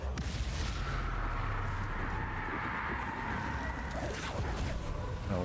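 A Confringo fire blast spell explodes in the Hogwarts Legacy video game, lost in a dense, steady wall of loud rumbling battle noise that holds for the whole stretch.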